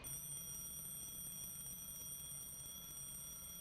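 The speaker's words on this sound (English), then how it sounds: "Today, I have an alarm clock, and let's see what it sounds like when it's just standing still." An alarm clock rings continuously at a steady pitch while held still, a constant bright electronic tone heard alone at moderate level.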